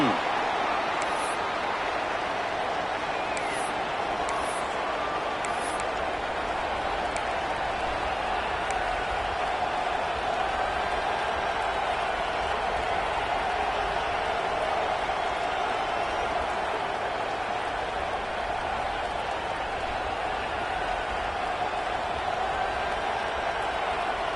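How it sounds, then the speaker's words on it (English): A stadium crowd at a college football game roars steadily as the defense holds in the red zone, a broad, continuous wash of cheering noise with a few sharp whistles early on. "the crowd coming to life here, trying to help this defense down in the red zone"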